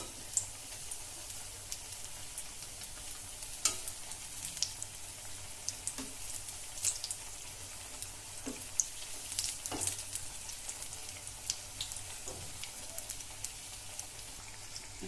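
Capsicum bonda deep-frying in oil on a low flame, a continuous soft bubbling sizzle with scattered small pops and crackles, fairly quiet and close, with no voices.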